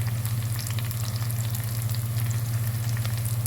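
Curry leaves sizzle and crackle loudly as they fry in hot oil, a dense, continuous close-up hiss with scattered pops over a low hum, and no voices.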